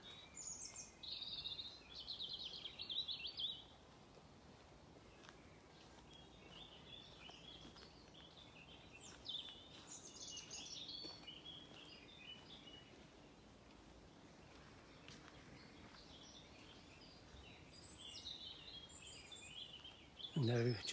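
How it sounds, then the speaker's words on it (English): Birds sing steadily through blossom-time woodland in Scotland, bright chirps and song phrases layered over a soft, constant outdoor hiss, fairly close and continuous for the whole stretch. "Just listen to the birds."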